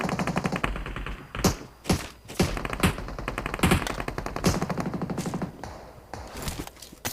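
Automatic gunfire rattles in rapid bursts during a battle royale video game fight, with sharp repeated shots and heavier thumps close up, broken by short gaps.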